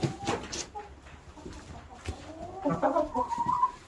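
Ornamental chickens such as Brahma, Wyandotte and Rhode Island birds cluck and call nearby in a farm setting, with several irregular clucks and a louder run of clucking toward the end.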